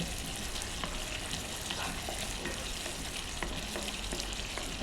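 Ginger garlic paste and turmeric frying in a pan, a soft continuous sizzle with occasional faint stirring clicks, fairly quiet and steady, with no talking.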